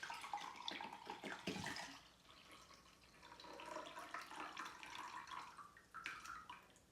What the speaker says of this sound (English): but first I'm going to drain the water